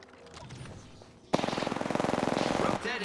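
Automatic gunfire in a battle-royale video game, a sudden, loud, fast burst of machine-gun shots that follows quieter game sounds and carries on steadily.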